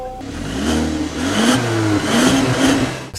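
A 2013 Kia Optima SX engine revs up while driving, the note climbing and dropping through gear changes, loud and close from start to finish.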